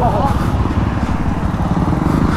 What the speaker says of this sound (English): We're all riding dirt bikes by